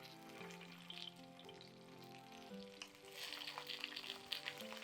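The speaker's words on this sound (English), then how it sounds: "But we're just going to sear this." A tomahawk steak sears in a hot pan, its fat cap sizzling with a soft, steady crackle beneath background music, growing busier and louder over the last couple of seconds.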